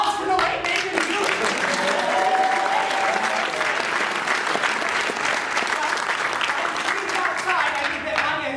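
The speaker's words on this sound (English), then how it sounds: "Ladies and gentlemen, a round of applause for the late Nathan Hughes" A room full of people applauds for several seconds, dense steady clapping with scattered voices underneath, holding at an even level throughout.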